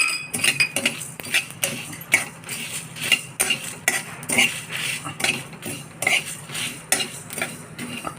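Fenugreek seeds get stirred in a hot pan with the gas just turned off, giving repeated rhythmic scrapes and light metallic clinks of a spoon against the pan, close and fairly loud, over a faint residual sizzle.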